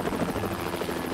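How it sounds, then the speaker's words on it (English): A helicopter in the video game Splinter Cell Double Agent, a loud, close, continuous rotor chop and engine drone filling the whole moment with no talk. "To hijack the helicopter?"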